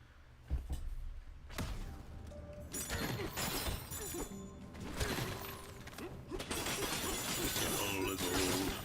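Smashing and shattering in the video game Donkey Kong Bananza, with crunching, breaking debris and mechanical clatter in dense, continuous bursts that fill the game audio, growing busier toward the end.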